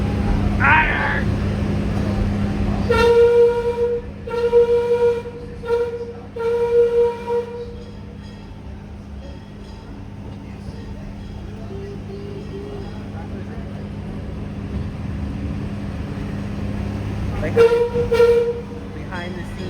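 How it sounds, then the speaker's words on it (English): Repeated horn-like tones sound in several short bursts over a low mechanical hum as a roller coaster train is dispatched, followed by a quieter stretch and another pair of tones near the end. "looks like Iron's getting ready to dispatch the train."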